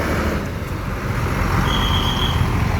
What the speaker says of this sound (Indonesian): Ada mobil double decker.